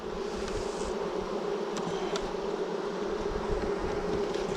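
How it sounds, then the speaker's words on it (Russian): Honey bees swarm around an open hive during a colony inspection, a dense, steady drone of many wings filling the air up close, unbroken and without any talk. "Ну, как много пчел."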